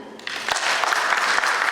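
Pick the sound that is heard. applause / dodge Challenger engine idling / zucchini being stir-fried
applause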